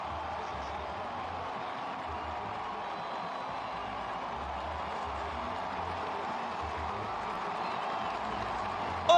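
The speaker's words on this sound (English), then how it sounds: "And listen to the crowd!" A football stadium crowd of about 20,000 roars after a goal for the Oakland Roots against San Antonio FC, a broad, steady wash of distant cheering and clapping that holds evenly throughout.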